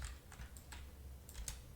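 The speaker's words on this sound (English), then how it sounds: "you can simply press the tab key on your keyboard" A computer keyboard is tapped, including the tab key, with a handful of faint, crisp keystrokes in a quiet room.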